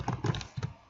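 Quick typing on a computer keyboard, a short burst of four or five close, soft key taps in uneven rhythm.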